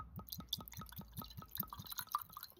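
Whisky trickles and drips steadily into a glass in quick repeated glugs, close by, with a faint clink and rustle around it.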